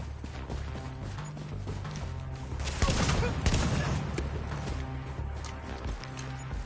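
Light machine gun fire in The Division on PS5, a rough rattling burst that swells mid-clip and then keeps on in scattered bursts under a steady background din.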